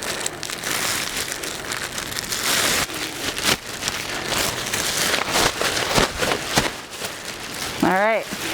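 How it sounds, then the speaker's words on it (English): A natron-covered duck is shaken inside a plastic bag, giving a continuous crinkly rustle with gritty crackling and a few sharper taps, close and fairly loud, with a voice briefly at the end. "I'm going to shake him off into the plastic bag because he is going to be covered in natron"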